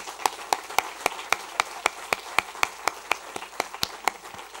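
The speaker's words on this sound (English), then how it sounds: "I'll ask for a round of applause to the students before starting." Sharp, evenly spaced claps at a steady rhythm for the students at an innovation lab closing event, each clap crisp and distinct over a quiet background, like a small group or a single person clapping in time.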